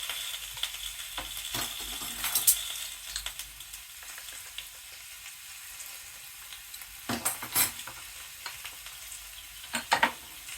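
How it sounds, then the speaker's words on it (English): A spoon stirring chili powder into a chicken and corn salad, soft scraping and mixing with occasional louder clacks against the bowl, close and without speech. "We'll mix that all together."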